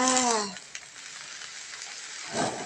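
Chinese kale dropped into a hot wok for chicken and egg fried rice: a voice at the start gives way to a steady, moderate sizzling hiss, with a stirring scrape near the end.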